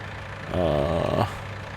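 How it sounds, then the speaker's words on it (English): A tractor engine in Farming Simulator 19 drones steadily at idle, then swells into a louder, rising rev for about a second before settling back to a low hum. "drive the whole tractor right down in here"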